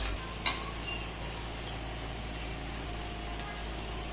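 Egg masala curry spice paste sizzling in oil over a medium gas flame, a steady close crackle and fizz with light stirring clicks throughout.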